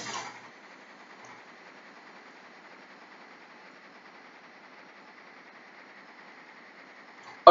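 A steam freight locomotive in a video game runs with a steady, even mechanical drone and a faint rhythmic chuffing texture, holding level throughout with no voices.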